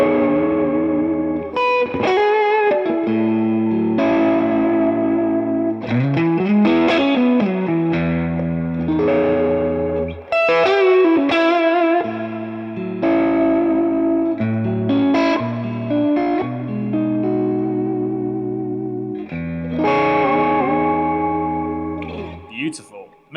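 Suhr Legacy electric guitar on its neck-and-middle pickup position, played through an amp with effects, ringing out a continuous run of sustained, overdriven chords and single notes at a loud, steady level.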